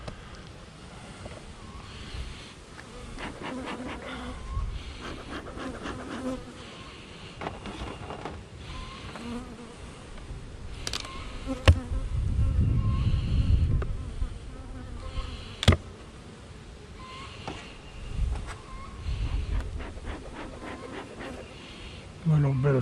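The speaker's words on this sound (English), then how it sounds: "Got quite a few bees under this cover." Honeybees buzzing at an opened hive in a home garden: a dense, wavering drone that swells and fades, with intermittent handling clatter and rustling mixed in.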